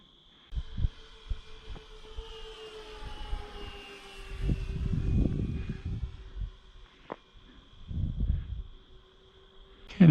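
Twin Tiger F90 1950 kv electric motors on an RC twin-hull boat cruise at about 35% throttle, giving a steady thin whine with rising and falling tones, while low water rumbles swell and fade in waves.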